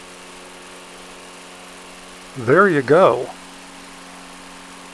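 A 2011 Toro lawn mower's small engine, just restarted after a spark plug cleaning, idles with a steady low hum throughout while someone says a few words over it midway.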